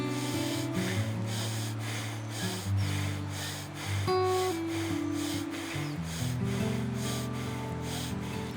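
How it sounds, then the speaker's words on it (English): Rapid rhythmic breaths in and out through the nose, repeated about once per second in a Wim Hof style fast deep-breathing round, close and fairly soft with a steady tempo. "3 rounds, 30 fast breaths in and out, and then exhale, hold, inhale, hold"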